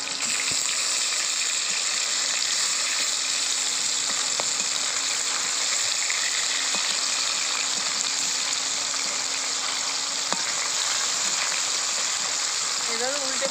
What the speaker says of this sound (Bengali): এভাবে উল্টে পাল্টে মাছগুলো ভেজে নেব